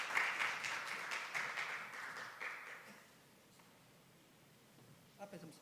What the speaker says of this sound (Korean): 우리 축하의 박수 한번 부탁드립니다.